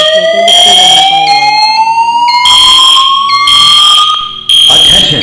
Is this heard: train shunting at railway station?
no